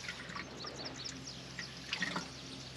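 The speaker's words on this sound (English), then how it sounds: "And I rinse the tablespoon" Water rinsing a tablespoon into a vineyard sprayer tank, a soft trickling and splashing flow with small drips, faint and close, alone.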